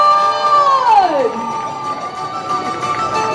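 A crowd cheers and shouts outside MBK Center at a mall event as a Thai series actor is welcomed, loud and lively, with a sustained tonal sweep sliding down through it, likely music or an effect, over crowd noise.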